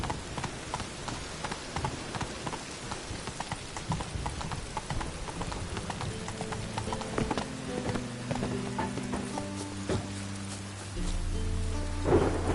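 Steady rain falls with low rumbles of thunder as horse hooves clip-clop at a steady rhythm throughout, with music swelling in near the end, in a video game.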